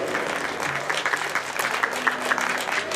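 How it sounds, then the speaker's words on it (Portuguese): Applause from a crowd at a Portuguese village festival, the Feira do Fumeiro in Carvalho de Rei, Amarante, steady dense clapping throughout with a faint voice or tone underneath. "um forte aplauso para eles"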